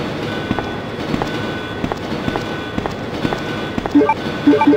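A train rolling along in a Resident Evil 2 mod, a steady rumble with regular rhythmic clacks of wheels over rail joints, fairly loud and continuous.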